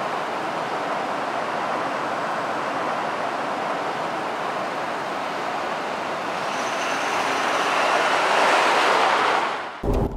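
A 2020 Ford Super Duty Tremor with the 7.3-liter V8 cruises on the road, a steady broadband hum of engine and road noise that swells slightly before ending with a brief clunk.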